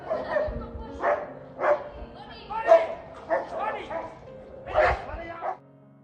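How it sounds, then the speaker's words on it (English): Dogs squabbling on the Camino in Spain, a series of sharp barks, yips and whimpers in quick irregular bursts, fairly close and loud, trailing off at the end. "We witnessed our first canine disagreement in Spain."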